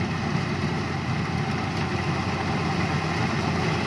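A Yanmar rice harvester engine runs steadily in a tall rice paddy during harvest, a continuous low idling drone that holds even and close without a break.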